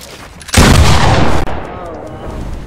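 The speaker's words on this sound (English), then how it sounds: "Why did I shoot? What a waste of good ammo." A single loud, close gunshot goes off in a building-battle video game. It booms suddenly and then leaves a long rumbling decay, with no voices over it.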